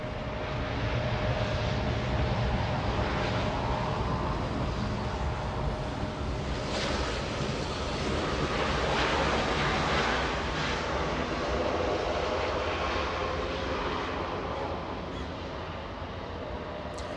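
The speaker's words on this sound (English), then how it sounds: "We also have a KC-135 flying above." A KC-135 passes overhead near LAX with a broad, steady jet roar that swells slightly in the middle, while a crow caws faintly in the distance.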